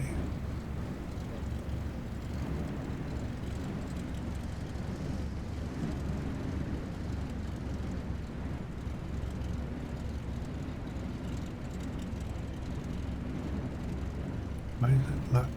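A small bush plane taxis along a runway in Microsoft Flight Simulator 2020, its engine a steady low droning rumble throughout, with someone talking over it.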